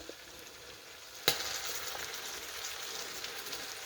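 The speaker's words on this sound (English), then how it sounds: "You heard that pop? Oh man. Yeah, them apples frying," Apples fry in a pan with a constant close sizzle, broken by one sharp pop of hot fat early on, after which the crackle carries on steadily with no talk.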